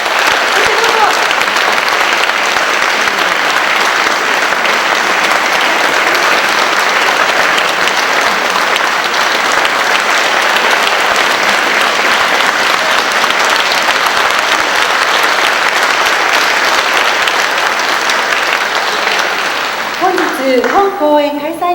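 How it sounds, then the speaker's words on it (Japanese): Sustained, dense applause from an audience welcoming teachers onto a stage at a city festival in Nanjo, continuing loudly and evenly for about twenty seconds before a voice begins speaking at the end. "どうぞ温かい拍手でお迎えくださいませ"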